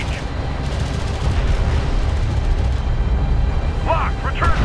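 Continuous rumbling unit gunfire and explosions from Homeworld: Deserts of Kharak battle, dense and steady throughout, with brief radio-style chatter and alert tones near the end.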